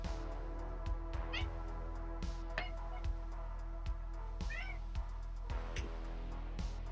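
A house cat meows several times in the room, each call clear and fairly close. A steady hum and soft regular taps from keyboard work continue underneath the calls.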